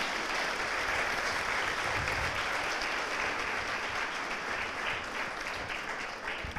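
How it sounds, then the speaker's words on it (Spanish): A church congregation breaks into sustained applause, a steady wash of many hands clapping at moderate volume in a reverberant hall, lasting several seconds without speech. "Denle un aplauso al Señor."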